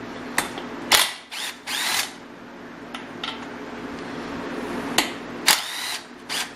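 A Bostitch impact driver loosens bolts in several short, sharp bursts of rapid hammering, each lasting under a second, separated by brief quiet gaps, recorded up close.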